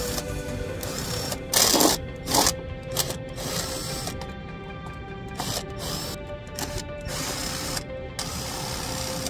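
Ratchet with a 13mm socket working the oil pan bolts on a Jeep Patriot, a steady run of fast mechanical clicking with a few louder clunks, close by and with no talk.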